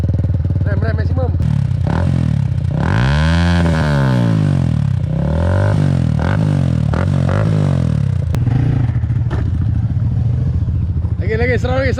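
A Yamaha RFS150i motorcycle engine being revved hard and close, with repeated rising and falling blips climbing to high pitch, rattly clatter in between, and a voice speaking briefly near the end.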